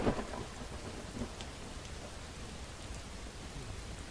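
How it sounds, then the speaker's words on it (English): Steady rain hiss from a thunderstorm in the Skyrim video game, with a soft rumble of distant thunder near the start, continuous and fairly quiet throughout. "We're at the very leading edge of the storm."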